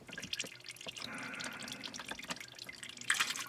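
Transmission fluid from a 2019 Kia Stinger trickles and drips steadily out of the open drain plug, close and faint, with a brief louder splash near the end.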